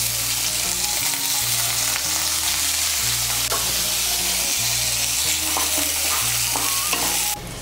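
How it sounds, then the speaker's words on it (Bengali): Washed Gobindobhog rice frying in hot ghee and oil in a pan, a loud continuous sizzle with rhythmic scraping stir strokes close by, no talking. "এর মধ্যে চালগুলো ভেজে নিচ্ছি।"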